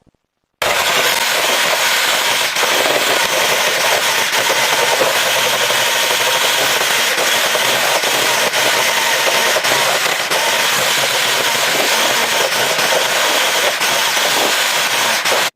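A mixer whisks egg yolks into a pale cream for a red sponge birthday cake. It gives a continuous, loud, close buzzing whir with a rattling texture that runs steadily without pause.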